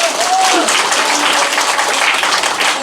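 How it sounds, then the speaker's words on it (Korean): Audience applause fills a talk show hall in Cheongju during a current-affairs event, steady and dense clapping sustained throughout, with a faint voice briefly audible near the start. "다시 한번 박수 한번 부탁합니다"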